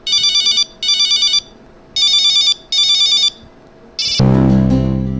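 A telephone ringtone rings in four loud, even electronic bursts with short gaps, followed by a louder, rougher tone at the end, with no talking over it.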